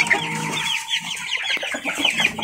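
Hens and chicks cluck on a farm, a busy overlapping chorus of close clucks and high peeping chirps that continues without a break.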